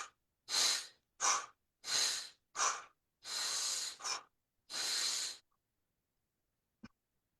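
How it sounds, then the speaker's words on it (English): Rapid, forceful breaths from a breathwork exercise: seven quick loud inhale-exhale bursts over about five seconds, close and alone, then silence with a faint click near the end. "What happens is it's breathing like this."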